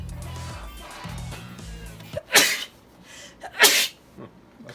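Two sharp sneezes, one after another, from someone working in a sawdust-filled workshop on a DIY Stormbreaker costume prop, loud and close over a low background hum.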